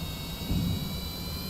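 Aircraft jet engine in Kerbal Space Program, a steady rumbling whir with a thin high whine that swells slightly as throttle comes up, continuous and moderately loud.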